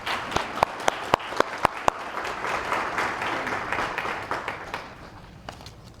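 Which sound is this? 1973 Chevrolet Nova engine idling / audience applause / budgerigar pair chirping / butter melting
audience applause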